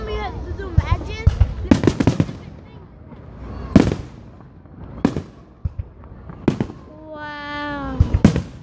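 Fireworks bursting in a lively outdoor display, sharp cracks and booms arriving in irregular clusters, some loud and close, with whistling rockets rising between them while people chatter and exclaim throughout.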